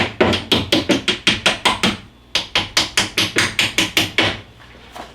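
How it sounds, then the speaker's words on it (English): A hammer strikes wood in two fast, even runs of about ten blows each, loud and close, with a brief pause between the runs, driving slat pins down into a wooden shutter. "you can hammer them in until they're all the way down"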